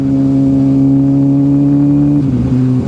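A Suzuki GSXR 750/600 motorcycle cruises in fourth gear at about 46 mph, its engine a loud, steady, close drone that dips briefly in pitch near the end, with no talk over it.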